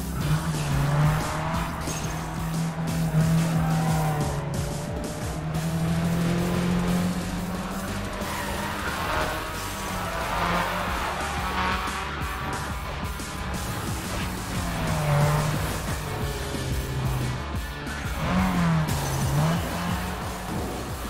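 Race cars in the video game Need for Speed ProStreet, a loud continuous engine roar with rising and falling revs and repeated long tire squeals through the corners.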